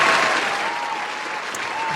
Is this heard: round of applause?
yes